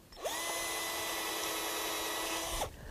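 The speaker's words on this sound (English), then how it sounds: "we could even drill a hole" A power drill boring a hole into a young walnut tree, a steady high whine starting abruptly and running about two and a half seconds before stopping, close and alone without talk.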